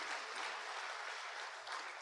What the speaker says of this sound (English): Applause for the Governor of Bali, Pak Wayan Koster